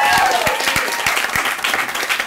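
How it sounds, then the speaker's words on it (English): Audience applause after a comedy reading, a dense, steady clapping from a crowd that carries evenly through the whole stretch with sharp individual claps standing out. "let's give her one more round of applause"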